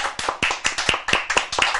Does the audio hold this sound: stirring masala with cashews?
no